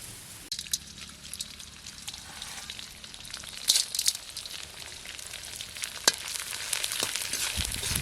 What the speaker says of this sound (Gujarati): ગુંદરને તળી નાખીએ પહેલાં.